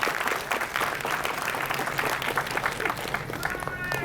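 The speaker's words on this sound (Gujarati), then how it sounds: "જોરદાર તાળી થઈ જાય શશાંકભાઈ માટે" Dense, steady applause from an audience at a company's silver jubilee celebration evening, continuous claps filling the space without a break.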